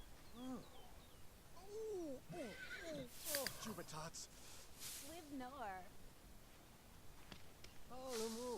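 Horse whinnies in The Sims 3 on a farm setting with hay bales: several separate rising-and-falling neighs spaced through the stretch, with faint hoof clip-clop and a voice talking over them.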